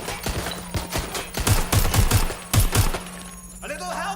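Rapid bursts of gunfire from Watch Dogs Legion, loud, sharp shots in quick clusters with a brief pause, ending in quieter game ambience.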